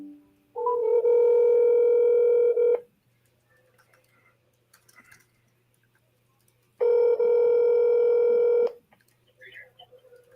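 Telephone call being placed on a phone line, with two long loud bursts of electronic ringing tone several seconds apart, separated by near silence with a faint low hum, and the call going unanswered.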